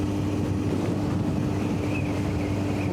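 A 1990 Honda CBR600F motorcycle engine drones steadily while riding along a countryside road, a constant loud hum mixed with wind rush, no talking.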